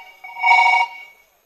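A telephone rings with a brief electronic tone lasting about a second, fairly loud and close, with no talk over it.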